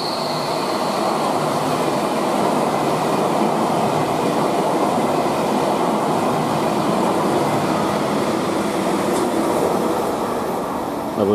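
Railjet passenger train running through Kufstein station, a loud, steady roar of wheels and wagons that lasts the whole time, with faint rail clatter inside it and no voices.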